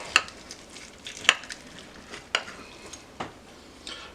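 A spoon stirs macaroni and cheese in a pot, giving soft scraping and several sharp metallic clinks against the pot at irregular intervals.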